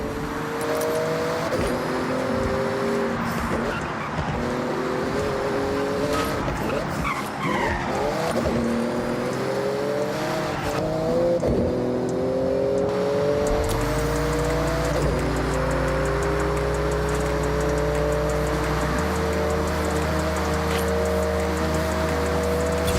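A Porsche races flat out in Forza Horizon 6, its engine roaring loud and steady, rising and shifting pitch as the tires squeal and skid through corners, then settling into a deep, sustained drone.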